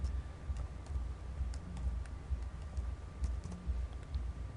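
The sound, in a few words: typing a password on a computer keyboard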